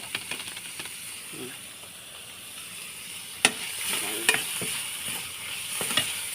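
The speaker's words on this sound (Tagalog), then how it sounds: "Haluin na natin para masarap." Fried rice being stirred in a pan over the heat, a soft steady sizzle under scraping, with a few sharp utensil clinks against the metal.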